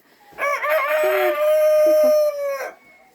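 Hens in a backyard coop give a sustained, loud crowing-like call with a few short clucks beneath it, a single bird close by with no talking.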